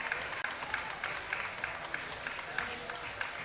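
A crowd at a women's equipped bench press competition claps and cheers steadily, faint and distant, under a commentator's voice.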